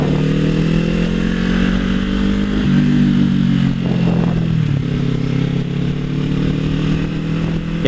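A motorcycle engine drones steadily and loudly throughout a ride. Its pitch eases down near the middle as the bike slows for a corner, then holds steady again. No one talks.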